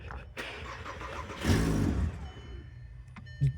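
Volkswagen Rabbit engine, suspected of being hydro-locked, cranks and catches with a short, loud burst of revving throttle midway, then settles into a rough idle close by, with brief clatter at the end.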